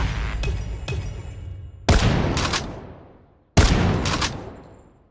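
Sniper rifle fire in the video game CrossFire: two loud single shots, each a sharp blast with a long fading tail, over softer background battle noise and smaller distant pops.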